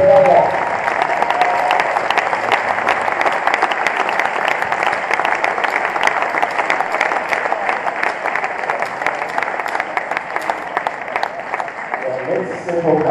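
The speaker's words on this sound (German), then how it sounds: "Jetzt nochmal einen großen Applaus für den Appell." Sustained audience applause at the World Robot Olympiad German final awards ceremony in Ludwigshafen, steady dense clapping from a large crowd lasting throughout, loud and close.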